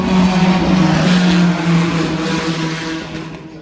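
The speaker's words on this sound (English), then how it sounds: "This is Jeff Underwood that we're looking at next in the Repco engine Brabham 3-litre V8 car." A Repco-engined Brabham 3-litre V8 Formula 1 car drives past at a hillclimb festival of speed, its engine a loud, steady drone holding one pitch and easing slightly toward the end, with no talk over it.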